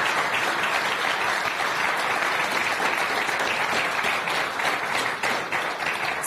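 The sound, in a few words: audience applause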